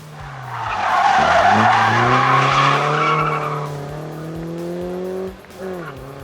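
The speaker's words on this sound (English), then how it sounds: "Wayne Archer gets the back wheels of the BMW onto the grass, but manages to save it." A BMW rally car skids on a stage rally with its back wheels running onto the grass, giving a loud, close engine roar with rising revs and a long tire-scrubbing slide before it recovers.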